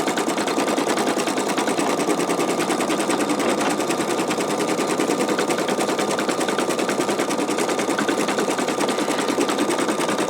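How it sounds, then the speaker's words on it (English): An embroidery machine stitches a design onto a T-shirt, a loud, steady, rapid mechanical chatter that runs unbroken and close up. "So you can see it stitching out, outlining some of the portions of the wing"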